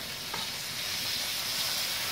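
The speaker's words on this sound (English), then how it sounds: "put them into the frying pan with the mushrooms" Steady sizzling of chicken frying in a hot pan with mushrooms, close and continuous, with a faint stir partway through.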